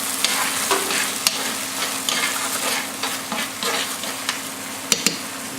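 Cream hitting a hot pan to deglaze it gives a steady close sizzle with stirring scrapes and a few sharp clicks of a utensil against the pan, with no voices.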